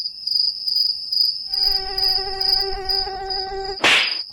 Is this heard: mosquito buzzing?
yes